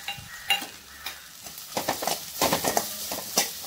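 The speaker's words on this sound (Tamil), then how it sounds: "வெங்காயம் நல்லா வதங்கட்டும் லைட்டாக." Chopped onions sauté in hot oil in a pan for an egg rice dish, a soft steady sizzle broken by light scraping and stirring strokes of a spatula, close and quiet with no talk.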